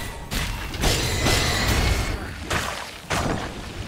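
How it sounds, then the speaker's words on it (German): Frost explosion in the video game Victor Vran, Overkill Edition on PS4: several loud crashing, shattering bursts in quick succession, with sharp onsets near one, two and a half and three seconds over a dense rumbling game mix. "Wo haben wir gerade diese Frost-Explosion geschafft?"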